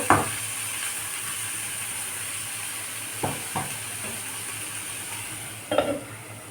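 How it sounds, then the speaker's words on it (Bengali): Raw plantain, egg and paneer fry in a pan with a steady low sizzle, while a few brief utensil scrapes and stirring knocks come through near the start, around the middle and toward the end. "দিয়ে দেবো দিয়ে সবগুলোকে ভালো করে ভেজে নেব"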